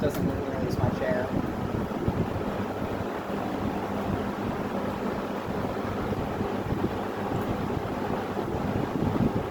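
A 20-inch Kmart box fan runs on high speed, giving a steady, loud broadband whoosh of moving air and motor rumble that fills the whole stretch without pause.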